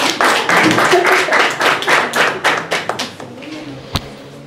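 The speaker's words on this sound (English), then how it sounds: "Round of applause." A burst of audience clapping at a keynote talk, loud and dense at first, then thinning out into scattered claps before fading away.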